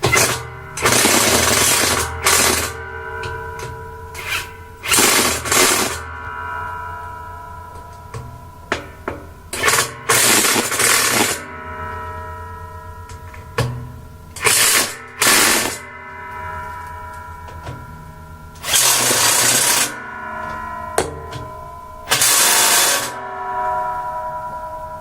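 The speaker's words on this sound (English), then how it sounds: "let's torque down some things here" Ratchet torquing bolts on a pulse jet go kart in a workshop: loud bursts of rapid clicking ratcheting separated by short pauses, close up, with some clanks and no talking.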